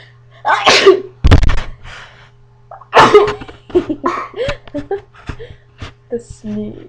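Two loud close sneezes, the first around a second in and another a couple of seconds later, followed by people talking and laughing briefly nearby over a steady low hum.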